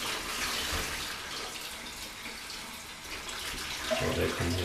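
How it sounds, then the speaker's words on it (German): Cold tap water runs steadily over a kombucha culture being rinsed in a sink, a continuous splashing hiss, close and moderate, with a faint voice underneath near the end. "der wird jetzt erstmal unter kaltem Wasser abgespült"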